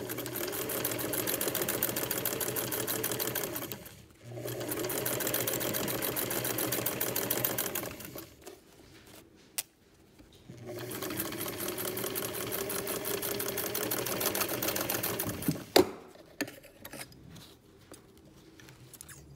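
Sewing machine running in long steady bursts of small stitches, ten per inch, on a French fashion doll princess dress, with brief pauses between runs and no talk.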